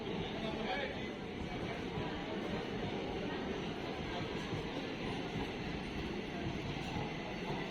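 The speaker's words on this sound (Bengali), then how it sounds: "এই ট্রেনটা দেখতে পাচ্ছ, এটা শিয়ালদা লালগোলা প্যাসেঞ্জার" A Sealdah–Lalgola passenger train passes through Murshidabad station with a continuous loud rolling rumble and rattle of rail cars that holds steady for the whole stretch.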